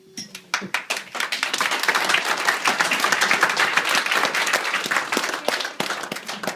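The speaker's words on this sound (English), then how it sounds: "Thank you for that kind applause." A wedding crowd breaks into sustained applause during a best man speech, scattered claps at first swelling into dense, steady clapping that lasts several seconds before thinning out.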